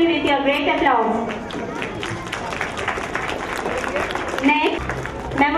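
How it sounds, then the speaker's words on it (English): Parents and guests at a school annual day in Hyderabad applaud the children in a busy hall, clapping mixed with crowd chatter while an announcer's amplified voice speaks over it at the start and end. "Please encourage these children with your great applause."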